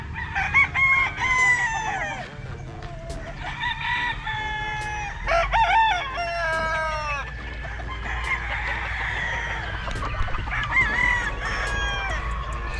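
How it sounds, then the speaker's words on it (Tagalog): Several fighting-cock roosters crow loudly one after another on a farm, long drawn-out calls over a background of clucking chickens. "Diara mga manok oh."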